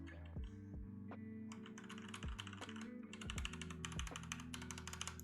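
Fingers type on ABS double-shot keycaps on a mechanical keyboard, giving a quiet but crisp run of close clicky keystrokes that quicken in bursts, with a faint hum underneath.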